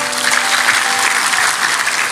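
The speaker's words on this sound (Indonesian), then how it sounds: "Berikan tepuk tangan pada Tuhan." Congregation applauding during a church sermon, a dense steady clapping from a large crowd, loud and continuous throughout with no talking over it.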